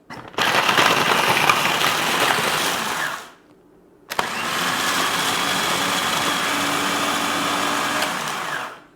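A food processor grinds biscuits and sugar into fine crumbs for a cheesecake base, a loud, steady whirring that runs for about three seconds, stops briefly, then starts again and continues for several more seconds.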